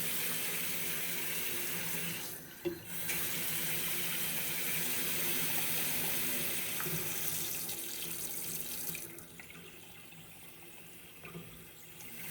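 A kitchen faucet with a pot filler runs steadily into a sink, a close hissing stream of water that briefly shifts and then quietens near the end.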